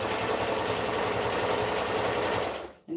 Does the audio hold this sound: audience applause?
no